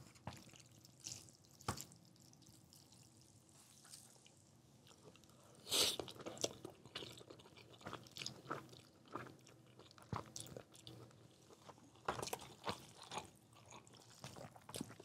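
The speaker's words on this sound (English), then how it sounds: "You're about to hear some monumental level slurping." Someone eats a bowl of pho noodle soup at a fusion restaurant, with scattered wet slurps, chewing and clinks coming in bursts against quiet room noise, close to the mic and without talk.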